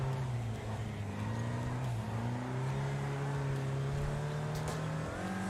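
A heavy race car engine in the video game Wreckfest drones and revs steadily, its pitch rising and shifting as it accelerates, loud and continuous with no voices over it.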